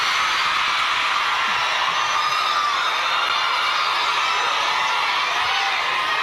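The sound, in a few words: crowd of students shouting and cheering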